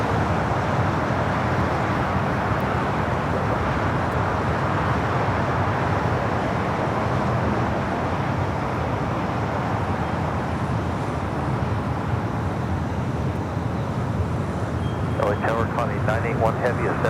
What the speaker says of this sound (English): Got that Dreamliner now cleared for takeoff and now starting the takeoff roll.